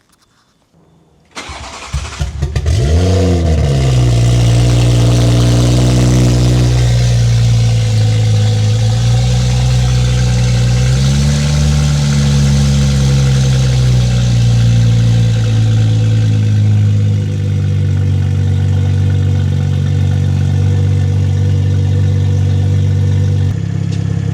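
A Toyota MK5 Supra fitted with a 5-inch downpipe cranks and fires up loudly, rising to a brief rev before settling into a deep, steady, booming idle heard close for over twenty seconds.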